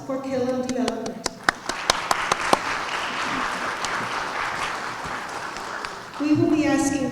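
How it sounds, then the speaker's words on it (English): An indoor crowd at a school awards press conference breaks into steady applause. A few sharp single claps ring out at first before the clapping thins and then swells again, with some voices heard near the end. "give an extra round of applause for Killam Development"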